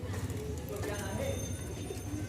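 Pigeons coo steadily on a crowded pigeon farm, a low continuous murmur of cooing and rustling from many birds close by, with someone talking over them.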